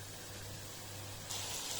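Steady sizzling crackle of lamb frying in a pan, growing a bit louder and brighter toward the end, with no voices.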